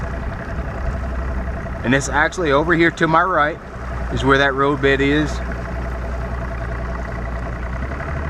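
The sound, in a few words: boat engine idling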